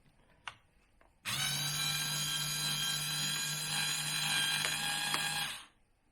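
A Black & Decker battery-powered drill whirs at steady speed for about four seconds with a tonal motor whine, close and loud, preceded by a faint click and spinning down at the end.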